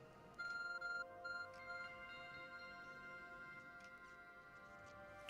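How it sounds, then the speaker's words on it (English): Arc phone beeping in Pokémon Legends: Arceus: a quiet electronic chime of repeated bright tonal beeps in short bursts, then sustained melodic tones under soft game ambience. "Arc phone is beeping."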